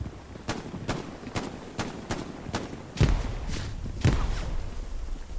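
Rifle and gunfire shots crack in a World War II battle in the game Hell Let Loose, a rapid string of single reports followed by a couple of heavier, deeper blasts over a constant low battlefield rumble.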